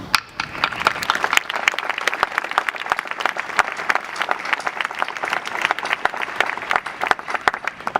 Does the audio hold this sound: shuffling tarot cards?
no